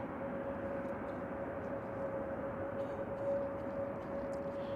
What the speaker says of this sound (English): So an Emirates A380 It's going to Dubai.